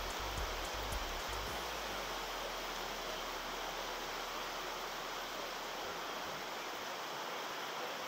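Heavy rain pours steadily over a garden as runoff floods the soil, a dense, even hiss of water with a few low thumps at the start and no talking.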